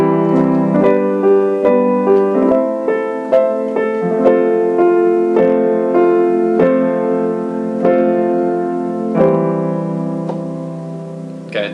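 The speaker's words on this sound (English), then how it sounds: "Okay, that was your plagal cadence." A plagal cadence is played as a series of sustained chords, struck one after another at a steady, unhurried pace. The chords ring loud and close with no talking.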